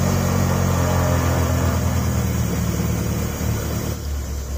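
A 1999 Kia Sportage engine runs at a steady idle, a loud close rumble that holds evenly and eases slightly near the end.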